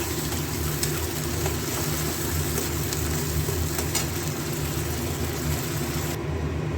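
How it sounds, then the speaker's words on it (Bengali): A paste of onion, tomato, garlic, ginger and green chilli, thinned with a little water, fries in a pan for restaurant-style chicken kosha, sizzling steadily and evenly throughout with no talking. "এটা ভাজা ভাজা হচ্ছে"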